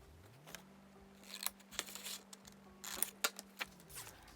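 Scissors snip through a paper number tag in short, crisp cuts, a few spaced clicks and slices close up over a faint steady hum, with no talking.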